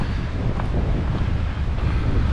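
Strong wind gusts across a beach with whitecapped waves rolling in, a steady loud roar buffeting the microphone throughout with faint surf beneath, no voices.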